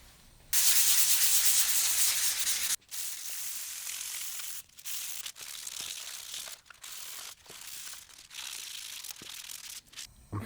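Hand sanding of a car body panel on an E30 with 400 grit sandpaper, a close, steady rasping scrape in long strokes broken by short pauses.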